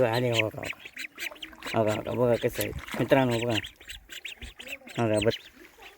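Ducks quack in short bursts close by while someone talks over them.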